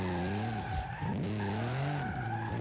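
Forza Horizon 5 car engine idling and revving at low RPM with a raspy, upgraded exhaust tone, a steady drone rising and falling, loud and close with no speech.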